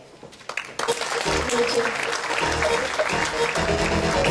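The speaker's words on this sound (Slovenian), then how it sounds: "A bomo malo zaploskali." Applause bursts out for a band at a Slovenian constituency convention, a dense crowd clapping that builds quickly and holds steady, with a voice speaking over it.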